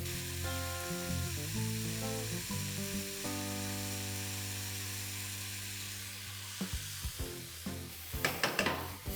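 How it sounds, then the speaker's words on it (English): Paneer lifafa filling of crumbled cottage cheese stir-fried in a pan over high flame, a steady sizzle with clinks and scraping of a spatula, stirring taps growing busier toward the end. "We need to stir fry this on high flame for just about a minute or so."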